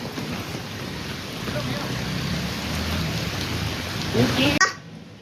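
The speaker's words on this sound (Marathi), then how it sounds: "आणि एकदम जोरात पाऊस चालू झाला" Steady heavy rain hisses across the whole band, with a brief louder clatter near the end before it cuts off abruptly.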